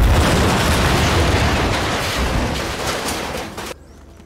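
Rocket explosions in the game Rust during a base raid: a loud, continuous roar of booming blasts that runs for several seconds, then cuts off abruptly to near silence.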